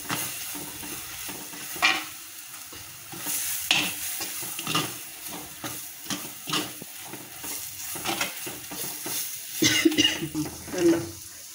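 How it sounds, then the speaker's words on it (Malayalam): Batter stirred and roasted in coconut oil in a pan, with repeated close scraping strokes of a spoon over a soft continuous sizzle. "ഈ വെളിച്ചെണ്ണയ്ക്കകത്ത് തന്നെ ഈ മാവ് നല്ലതായിട്ട് മൂപ്പിച്ചെടുക്കണം"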